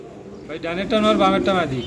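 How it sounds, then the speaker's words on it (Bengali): Pigeons coo in a low, throaty warble, close by, with a voice speaking over them. "এখানে আরো এক জোড়া কবুতর আরো এক জোড়া কবুতর"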